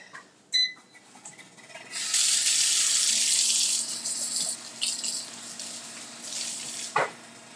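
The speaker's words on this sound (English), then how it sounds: "let me wash my hands" Hands washed under a running kitchen tap: water gushes steadily for a couple of seconds, then splashes and trickles irregularly, with a few clinks and a knock, at close range.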